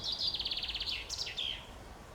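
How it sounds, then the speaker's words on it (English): Birds singing in the morning, a run of rapid high chirping notes followed by a few short sweeping calls, moderately close against quiet background hiss. "just listening to the birds singing"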